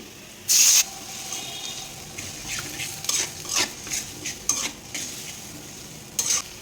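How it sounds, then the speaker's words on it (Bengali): Spice paste of ginger, garlic and onion pastes with chili, turmeric, cumin and coriander powders and tomato, stirred into browned chopped onions in a pan: a loud metallic clatter at the start, then irregular scraping strokes over a soft sizzle, with no talk. "এখন আমি যে মশলাটা আগেও আমি রেডি করে রাখছিলাম ওই মশলাটা দিয়া ভালো হয়ে মশলাটা কষাইমু"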